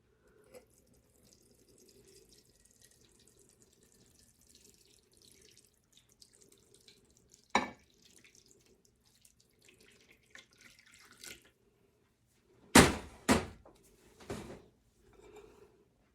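Tap water runs into a pot being set up as a water bath in a home kitchen, heard as a few short bursts of splashing flow after quiet handling noises, fairly close and moderately loud.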